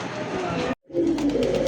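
Pigeons coo close by in two short bursts of soft, throaty calls, broken by a brief moment of silence.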